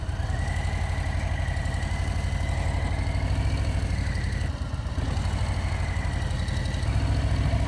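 A Harley-Davidson Low Rider S with its Milwaukee-8 V-twin idles up close, a steady deep rumbling pulse that carries on unbroken, with a brief dip near the middle and no voices.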